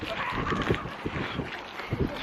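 Strong wind buffets the microphone on a coastal causeway walk by the Kent riverside at Gillingham, a constant loud rumbling roar with gusty bumps, and a person talks over it.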